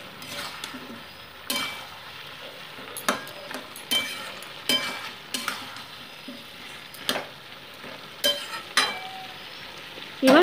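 Vegetables sauté in a pan for a spinach dish with hilsa fish head, making a soft continuous sizzle punctuated by repeated sharp clinks and scrapes of a spoon against the pan.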